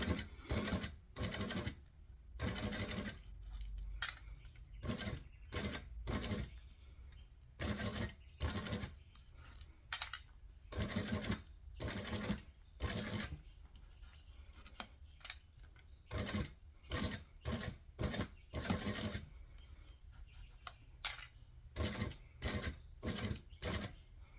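Sewing machine stitching through existing stitching, repeated close bursts of rapid mechanical whirring separated by short pauses, quiet overall with no voices.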